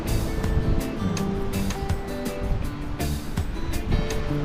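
A fishing boat's engine runs near the surf at Grajagan beach in Banyuwangi, a continuous loud churning mixed with wash and splashing water. Faint voices sit low underneath.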